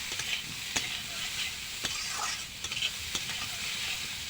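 Jackfruit and potato pieces frying in oil in a pan crackle and sizzle continuously, with a utensil scraping and tapping the pan at irregular intervals.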